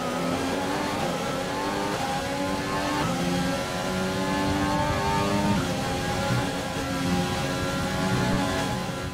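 A Formula 1 car in the F1 2020 racing game held at full throttle, its high-pitched engine wail loud and sustained with rising gear-like pitch sweeps and no speech over it.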